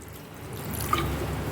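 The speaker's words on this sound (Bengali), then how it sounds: "তো আমি আর একটু পানি দিয়ে নেব" Water is poured into a pot of vegetarian ridge gourd, potato and lentil-dumpling curry, a soft continuous liquid gurgle with a small splash, close and moderately quiet, no talking.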